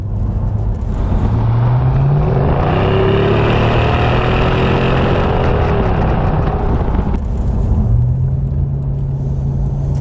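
A supercharged V8 Jaguar XK8 drives on, its engine droning loud and close with rising and falling tones as revs climb, a steady road rumble underneath.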